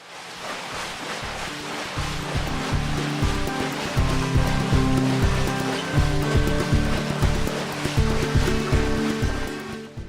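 A tannery paddle churns water to wash salt from salted New Zealand lambskins, a loud, rhythmic sloshing with regular heavy low pulses repeating over a constant watery rush.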